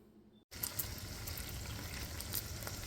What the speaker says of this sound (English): Now to this sizzling skillet of glory